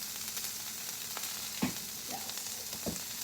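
Breakfast frying in olive oil and butter in a nonstick pan, a continuous bright sizzle with occasional scrapes and taps of stirring, no talking over it.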